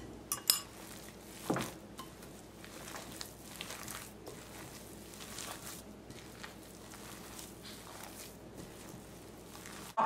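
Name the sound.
stirring potato pizza topping with Romano and Parmigiano cheese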